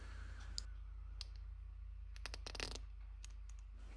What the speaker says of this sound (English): let's hear this capsule